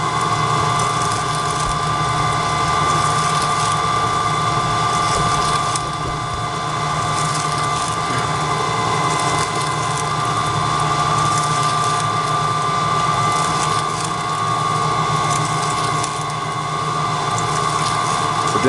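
Steady mechanical drone of a running product retaining plate machine, loud and constant, with a low hum and a thin high-pitched whine throughout.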